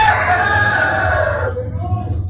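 Ayam Kampung Yudistira parent-stock rooster, about four months old, crowing once in a long drawn-out call close by in a coop, fading out near the end over a low background hum.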